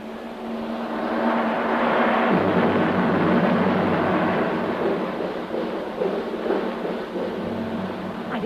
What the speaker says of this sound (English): There, I believe there's a storm coming up.